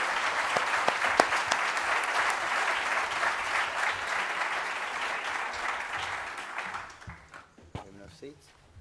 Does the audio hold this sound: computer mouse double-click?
no